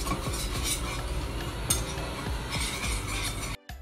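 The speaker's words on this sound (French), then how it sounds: "Donc on va mélanger petit à petit pour faire adhérer notre pâte, notre béchamel pardon" Milk being stirred into béchamel sauce for lasagne: a whisk or spoon works steadily through the thickening sauce in a pan, making soft, close scraping and sloshing with faint clinks against the pot. It cuts off abruptly near the end.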